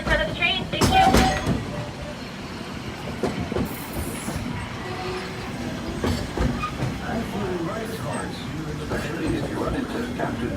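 A Fort Wilderness railroad ride rattles along with steady clickety-clack wheel noise, metallic squeals and clanks, while an announcer speaks over the train's rumble.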